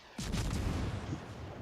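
A torpedo strikes a ship in World of Warships: Legends, a single deep booming blast that bursts in suddenly and then rumbles on as a broad, slowly fading roar, fairly loud and with no talking over it.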